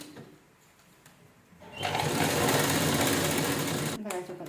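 A close sewing machine runs steadily for a couple of seconds while it sews a press stitch along the side of a purse fitted with a zipper, then stops briefly and starts again.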